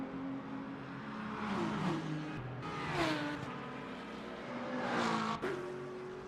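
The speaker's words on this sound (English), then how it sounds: "Cars filing through." Race cars in Le Mans Ultimate file through at Monza in light rain, engines rising and falling in pitch as several pass in succession, a steady dense roar with swells around each passing car.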